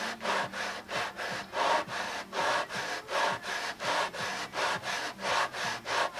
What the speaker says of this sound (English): of course I have this sticky back sandpaper as a good starting point.